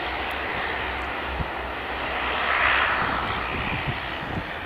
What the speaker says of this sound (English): That's the Dash 8, you can just hear starting its engine.